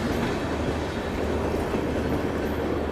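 An old ICF-rake Garib Rath Express running on the track, a steady loud rumble and roar of the moving train throughout, with no talk.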